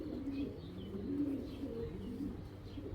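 Young racing pigeons coo softly in a loft, the low rolling calls repeating steadily throughout at a modest distance, with no voices.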